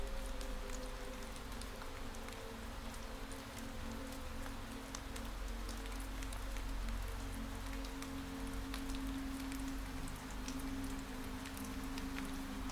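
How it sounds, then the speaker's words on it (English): Steady rain falls continuously outside a cafe at night, a dense, even patter with soft ticking drops, moderately loud and unchanging throughout, with no voices. "The rain is still here."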